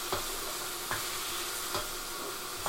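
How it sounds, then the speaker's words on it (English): Green onion stirred through a sizzling stir fry in a pan, a steady broadband hiss of frying broken by a few sharp scrapes of stirring at regular intervals, close and moderately loud with no voices. "I like putting the green onion in my stir fry. So just keep stirring it."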